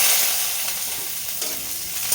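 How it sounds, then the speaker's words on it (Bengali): Potatoes for aloo bhaja fry in hot oil, making a loud, dense, continuous sizzle up close with light stirring, no voices. "শুভ সকালে যে রান্না বসাইলাম আলু ভাজা আর ডাল"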